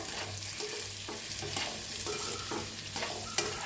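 Eggs seasoned with salt and turmeric frying in a pan while being turned, a soft steady sizzle with several spatula scrapes and taps, faint and close, with no voices.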